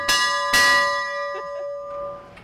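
A ship's bell aboard the USS Dewart is struck twice in quick succession, ringing loud and close. Each strike leaves a long, shimmering tone that slowly fades over quiet background.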